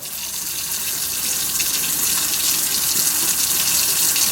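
Water runs steadily from a tap into a sink, a continuous broadband rush that stays loud and close throughout with no talking over it.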